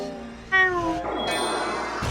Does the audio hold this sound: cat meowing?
yes